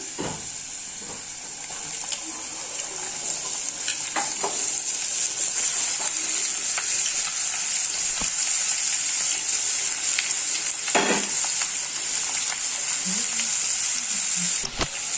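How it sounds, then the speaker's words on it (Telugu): Carrot pieces and onions fry in a pan over a medium flame, with a loud continuous sizzle and occasional scraping stirs of a spoon throughout. "ఈ క్యారెట్ ముక్కల్ని బాగా కలుపుకోవాలి. ఇవి బాగా ఫ్రై కావాలి."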